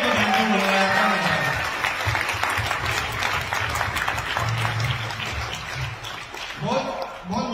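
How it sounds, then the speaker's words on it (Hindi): Sustained audience applause fills a hall, steady dense clapping from a large crowd at a business event that continues throughout, with some voices mixed in underneath. "जितनी जगह तालियां बजाओ उतनी इनको थैंक यू बोला जाता है।"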